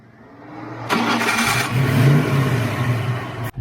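A 347 stroker-engined coupe idles nearby, a low steady rumble that jumps in level about a second in and then settles as the idle air control adjusts, with the pitch wavering slightly and no voices.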